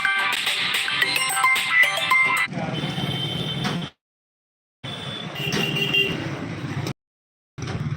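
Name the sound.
phone ringing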